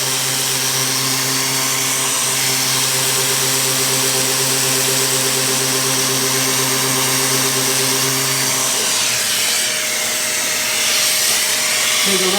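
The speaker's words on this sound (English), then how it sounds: "I need to get this sanded really well" A wood lathe spins steadily with a loud hum and steady tonal whine while abrasive hiss from sanding a wooden platter rides on top, shifting in pitch toward the end as pressure changes.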